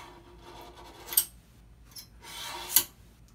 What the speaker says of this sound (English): take your razor blade and scrape across the plate